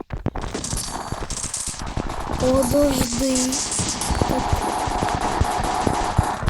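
Rapid video game gunfire crackling in bursts amid busy game sounds, with someone briefly speaking over it.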